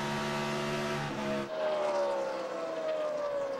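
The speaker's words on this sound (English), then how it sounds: "You hear out of the throttle forever and just really coasting through the corner almost." An ARCA Menards Series race car at Kansas lifts off the throttle and coasts through a corner, its engine note dropping from a loud roar to a thinner, falling whine as it passes.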